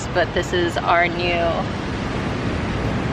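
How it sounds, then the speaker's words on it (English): Ocean waves wash in a steady broad roar with wind noise on the microphone, partly under a person talking at first and then heard alone. "I don't know how well I'm being heard over the sound of the waves"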